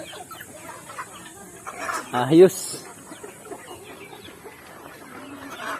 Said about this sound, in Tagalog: So dami lang alagang manok.